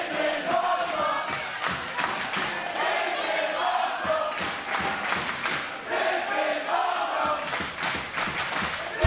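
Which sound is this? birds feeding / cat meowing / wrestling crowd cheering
wrestling crowd cheering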